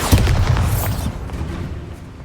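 A Bombarda spell explosion in the Hogwarts Legacy video game: a loud booming burst at the start that rumbles and fades over about two seconds.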